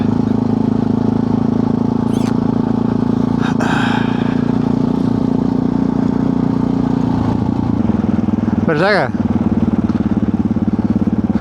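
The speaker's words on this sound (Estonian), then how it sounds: "Mingid tsiklid on seal maja kõrval ja värgid." Motorcycles rumble and idle beside a house in Sigulda, Latvia, a constant loud engine drone with one engine dropping in pitch partway through, as a person speaks briefly over it.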